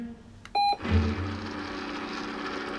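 A remote-controlled treat dispenser used in dog training gives one short, bright beep, followed by a low rumbling hum and a quiet room.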